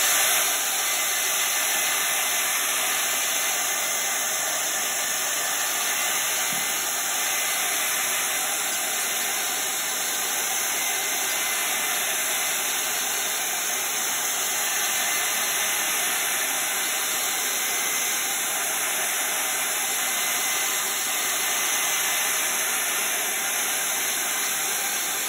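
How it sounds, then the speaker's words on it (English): A hair dryer blows continuously at close range, a steady loud whooshing hiss with a high whine that never changes for the whole stretch. "I'm gonna get the blow dryer to speed up the process."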